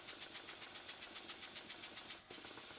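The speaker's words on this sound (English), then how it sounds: "it's time to admit some compressed air. And as you can see, the reversing valve works fine." A Blackgates twin-cylinder model steam engine running on compressed air after a reversing valve repair, giving a steady, rapid train of sharp exhaust puffs, about five per second, close and loud, with a brief dip near the end.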